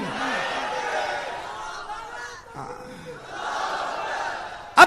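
A large crowd at a religious gathering shouts back in unison in response to the Nara-e-Takbir slogan, a swelling roar of voices that dips briefly and rises again, ending in a sharp loud burst.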